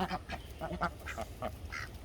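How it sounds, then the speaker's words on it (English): Ducks quacking in a food forest, a run of short, loud, close calls in uneven bursts. "Duck Norris has some babies in there"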